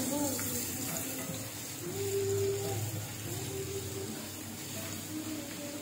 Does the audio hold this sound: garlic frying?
yes